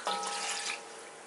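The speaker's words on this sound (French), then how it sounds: "je peux rajouter de l'eau" About half a litre of water poured into a cooking pot for couscous, a brief splashing, rushing pour that fades after a second.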